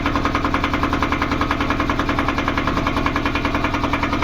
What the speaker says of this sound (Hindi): आप लोगों ने जो है गाड़ी की स्टार्टिंग भी देख ली है और गाड़ी की आवाज़ भी देख सकते हैं आप लोग